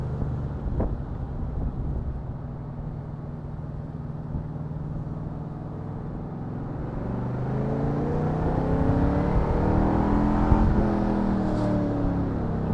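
A V8 engine in an AK Sportcars Cobra replica drives along, a steady low rumble that swells as it accelerates, loud and close with no talk over it.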